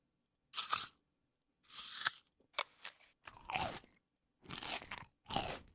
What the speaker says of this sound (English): Oh, this is like cartoony crunching sounds.